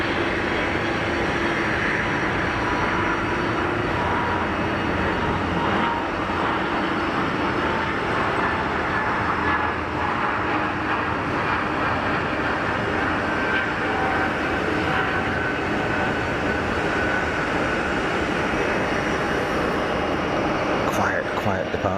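An aircraft departs from Geneva Airport, a continuous broad engine rumble held at a fairly even level for the whole stretch, with faint talk now and then underneath.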